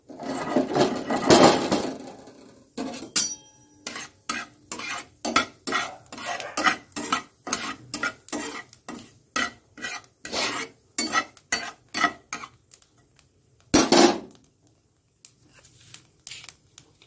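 Dried red chillies and nigella seeds stirred in oil in a frying pan, with a spatula scraping the metal in quick rhythmic strokes, close and crisp, and brief pauses between bursts.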